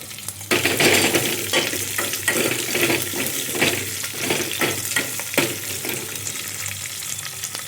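Curry leaves crackle and sizzle in hot oil for an okra tamarind curry, with a loud burst as they hit the pan, followed by steady frying and occasional stirring clinks.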